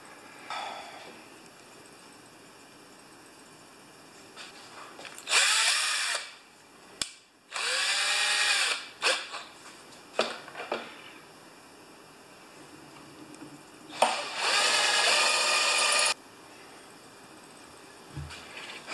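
A battery power drill spins a bit into metal while repairing a 6 HP Craftsman mower that won't start. Three loud drilling bursts of a few seconds each are separated by short pauses and quieter handling clicks, with no talking.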